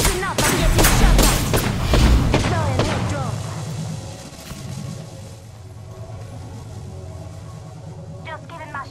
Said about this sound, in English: I'm getting shot.